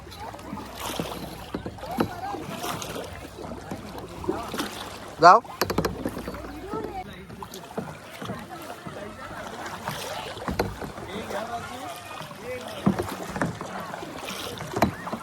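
Fibreglass kayak paddled on water on a kayaking outing, with repeated soft paddle splashes and water lapping, light wind noise and occasional voices in the background.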